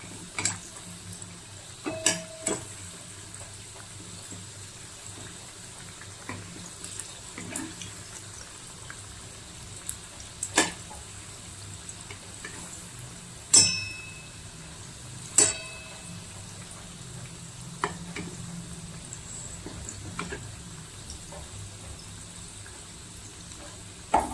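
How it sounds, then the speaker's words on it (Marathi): Fenugreek fritters (methi bhaji) frying in a pan over a medium gas flame, a faint steady sizzle with scattered clinks of utensils and occasional sharper knocks, no talking. "तर आता हे दुसऱ्या बाजूला भाजी तळून घेऊया।"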